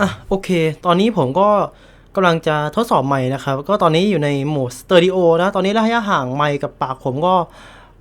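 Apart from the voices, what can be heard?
No everyday noise stands out behind the speech.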